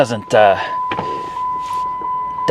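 A person speaks briefly, then a small electric seat motor in a 2021 Ford F-150 whirs steadily in the background, a faint mechanical hum continuing under quiet talk.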